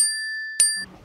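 A single bright notification bell chime rings out clearly and sustains for most of a second, ending with a soft click and faint rustle.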